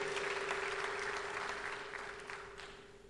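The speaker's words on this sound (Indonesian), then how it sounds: "Tepuk tangannya paling meriah buat Tuhan." A church congregation claps in a steady, fairly faint wash of applause with a constant hum underneath, slowly fading.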